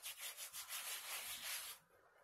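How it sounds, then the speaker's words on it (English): Homemade noodle dough rubbed and pressed in fresh flour, a soft close brushing scrape repeated in quick strokes for nearly two seconds before stopping. "So whenever I see that, then I want to rub it in the flour."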